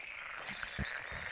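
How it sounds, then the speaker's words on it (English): Frogs croak faintly in a few short, separate calls over a soft ambient wash of outdoor sound in the walking game Take a Walk. "a few frogs, but we don't see them"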